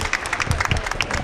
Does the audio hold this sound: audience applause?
yes